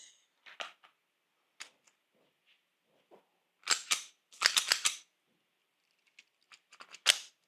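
Pistol gunshots from company-supplied ammo fired on a range: scattered sharp cracks, including a tight cluster of several shots in quick succession mid-way and a lone loud report near the end, separated by quiet gaps.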